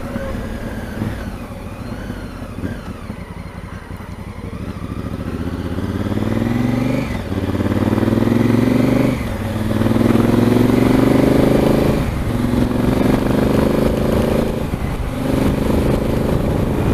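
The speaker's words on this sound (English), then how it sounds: "No, honestly, the bike feels loads smoother." Honda Africa Twin motorcycle engine heard while riding, a steady close drone that rises and falls through several gear changes and accelerations.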